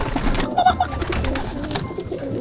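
Pigeons coo in low, throaty murmurs close by, with faint ambient noise and no clear speech.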